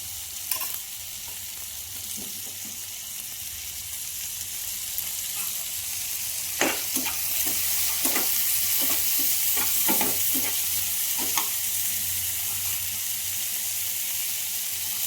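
Finely chopped tomato is added to onions frying in a pan for a paneer and vegetable dish, giving a steady sizzle. Repeated scraping stirring strokes cut through the sizzle, and no one speaks.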